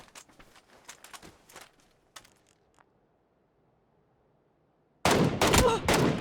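PUBG video game gunfire: bursts of rapid shots early on, a near-silent stretch, then loud, close, sustained automatic fire in the last second.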